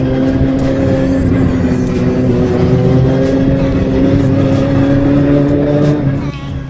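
Motorbikes, including a Benelli 600, set off together on an evening group ride, loud engines droning and revving steadily up close, with a brief drop in noise near the end.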